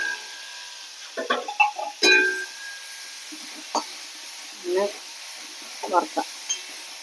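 Dried red chillies, shallots and crushed garlic fry in hot oil with a steady, soft sizzling hiss throughout, while someone talks over it in short phrases.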